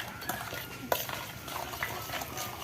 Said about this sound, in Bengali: চিনিটাকে দিয়ে ভালো করে ঘেঁটে নিই, যাতে চিনিটা তাড়াতাড়ি গুলে যায়।